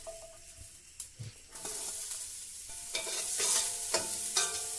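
Bay leaf and whole spices fry in coconut oil in a pan, a steady loud sizzle with stirring scrapes and small pops, growing slightly more intense, no one speaking.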